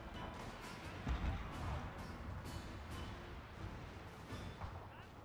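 Battle gunfire in Shogun 2: Total War, with a dense, continuous roll of distant musket and cannon fire and crackling volleys blending into a rumbling wash of combat noise.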